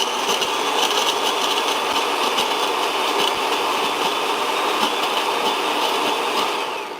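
Blender whizzing cottage cheese with nuts and honey, a loud continuous high whirring roar with a faint rattle, steady throughout at close range with no talking.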